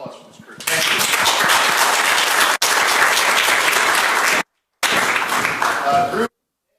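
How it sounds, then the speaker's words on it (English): An audience at a panel event on women, peace and security gives a group a strong, dense round of clapping, cut off abruptly twice before resuming and then ending sharply. "Round of applause for this group."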